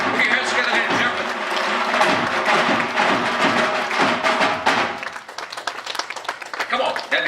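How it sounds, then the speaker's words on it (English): Audience applause fills a launch event for G-Data security software in Sri Lanka: sustained, dense clapping from a crowd, close and loud, with voices mixed in and thinning slightly toward the end. "that deserves a big round of applause"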